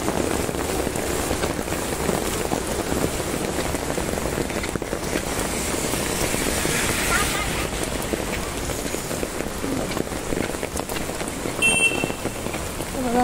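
Heavy rain falls in Viman Nagar, Pune, a constant wash of patter and hiss close to the microphone with some gusty wind noise. A brief high tone surfaces near the end.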